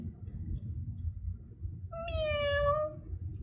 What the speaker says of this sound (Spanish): un gato